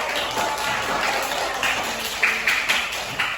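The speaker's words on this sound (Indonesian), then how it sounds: "Kasih tepuk tangan buat kita semuanya." Sustained applause from a group of students in a classroom during a teacher performance assessment, a dense patter of many hands clapping steadily with a few sharper claps standing out near the end.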